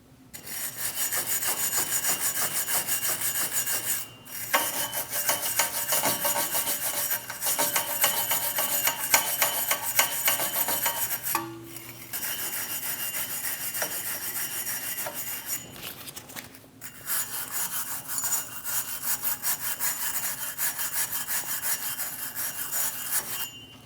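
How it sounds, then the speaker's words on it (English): A wire brush scrubs the wheel hub of a 2016-2025 Chevrolet Malibu during a front brake job, giving a steady, close, rasping scrape in long continuous strokes with a few brief pauses. "we're going to use a wire brush and clean the hub"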